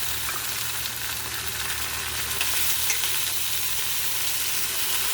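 Goat meat frying in a pan, a continuous close, bright sizzle and crackle at even loudness for the whole stretch, with no voices.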